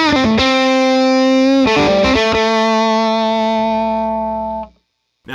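A PRS Special 22 electric guitar with its bridge humbucker coil-tapped plays distorted, gain-driven notes that ring out and sustain loudly before an abrupt mute.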